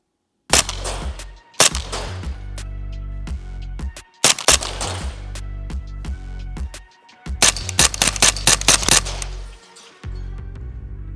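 A Vintorez suppressed rifle fires in close, sharp reports: a couple of single shots, a pause, another pair, then a quick string of rapid shots before it stops.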